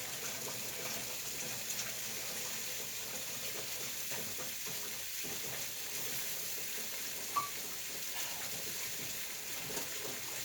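A kitchen sink faucet runs steadily while waiting for hot water, making a faint, continuous hiss and splash that holds throughout with no talking.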